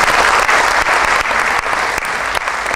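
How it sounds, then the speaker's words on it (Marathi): Sustained audience applause at an awards ceremony, a dense, steady clapping throughout at even loudness, with no talk over it. "आपण टाळ्या वाजवून त्यांचं कौतुक करू"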